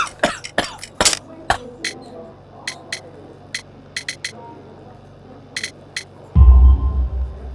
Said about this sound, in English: You have a severe cough.